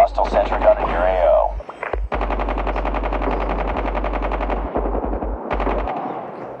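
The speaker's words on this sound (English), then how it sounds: "Hostile sentry gun in your AO." A sentry gun fires in the Call of Duty Mobile video game, with long bursts of rapid automatic gunfire and a few short pauses. A brief electronic sound and game noise open the burst.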